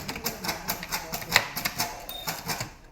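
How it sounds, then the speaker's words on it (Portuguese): A mechanical typewriter types at a steady pace, each keystroke a crisp clack, with roughly a dozen strikes in quick succession and one sharper bell-like ping partway through, close and clear. "Esse som que você escuta provavelmente te remete a algo do passado. Uma máquina de datilografia,"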